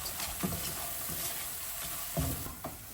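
Cardamom powder being stirred into a ghee-rich mava modak mixture in a pan, a soft low sizzle under intermittent scraping strokes of the spoon, a couple of them louder, with no talking.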